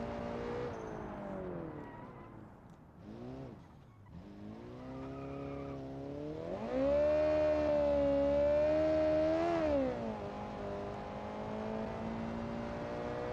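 Tires squeal and a turbocharged race car engine wails with sustained harmonic pitch, rising and falling through a long skid in a racing video game, loud and continuous with no talk.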